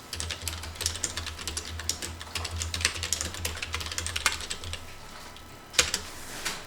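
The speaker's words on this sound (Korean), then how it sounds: "일단 이렇게 글씨를 적으시고 엔터" Fingers type text on a computer keyboard: a steady patter of close, crisp key clicks with a louder keystroke near the end, alone without speech.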